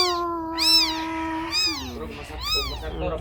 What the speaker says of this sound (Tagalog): Ito si Pusa